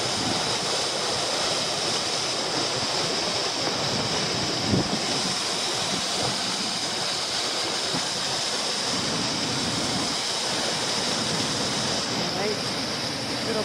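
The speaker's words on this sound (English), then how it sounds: "so the waterfall's kind of loud" Loud, constant roar of the first tier of Alamere Falls, a dense unbroken wash of falling water close by, with a faint voice briefly under it.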